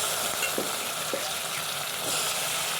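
Eggplant pieces sizzle steadily in a pan with coriander and mint, a constant close frying hiss broken by a few soft stirring knocks, with no voices.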